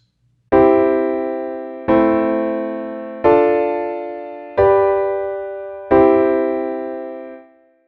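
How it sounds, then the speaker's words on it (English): Five sustained piano chords of a 1-6-2-5 progression played one after another at a steady pace, each ringing out before the next, the last fading away. "resulting in a 1-6-2-5 progression."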